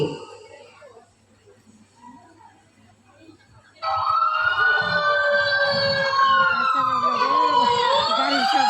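After a few seconds of quiet background noise, a loud wailing fire engine siren suddenly starts and keeps sweeping up and down, close and continuous.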